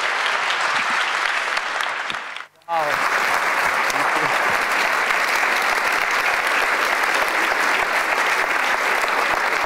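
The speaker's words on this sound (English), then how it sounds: "I want a huge round of applause for Peter Avis" A large conference audience breaks into loud, dense applause that carries on steadily for several seconds, cutting briefly to near silence before resuming at full strength.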